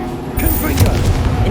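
The Incendio fire spell is cast in the video game Hogwarts Legacy, a short whooshing burst with a low boom and crackle amid battle noise, under a voice that calls out.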